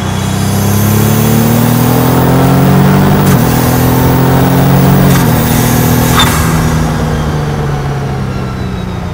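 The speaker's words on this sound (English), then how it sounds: "Heavily turbocharged, and obviously half six cylinders," A heavily turbocharged Formula Ford EcoBoost race car engine revs hard while driving, a loud, steady buzzing drone that rises in pitch, dips sharply at two gear changes, then climbs again, with no voices.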